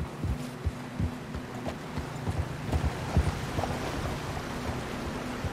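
Hooves pound in a quick, rhythmic gallop as a horse runs across open ground in Red Dead Redemption 2, with thuds close and distinct over a soft, rain-like background hiss.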